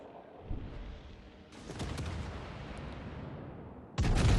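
Warship naval guns fire in a World of Warships: Legends battle: a few muffled booms, then a sustained rumbling barrage and a loud final blast near the end.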